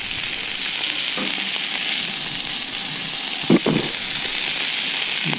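Sausages sear on a Camp Chef FTG600 flat-top griddle with a steady, close broadband sizzle, punctuated near the middle by a couple of brief louder spatters or scrapes; no voices.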